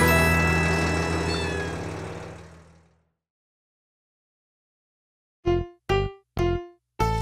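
Cats meow four times in quick succession, each meow short and close, after a stretch of music fades into silence; the setting is a playful ride in a fire engine.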